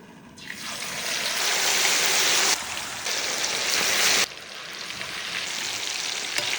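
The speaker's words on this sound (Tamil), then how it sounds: "இப்போ நம்ம ஊற வச்ச மட்டனை நல்லா டீப் ஃப்ரை பண்ணி எடுத்துக்கலாம்" Marinated mutton deep-frying in hot oil gives a loud, dense bubbling hiss, with one abrupt drop and one swell in intensity partway through as the pieces are moved, and no talk.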